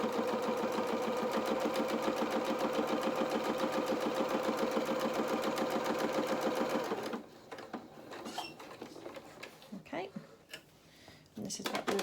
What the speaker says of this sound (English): we're going to put it back into the machine, and we're going to do another row of stitching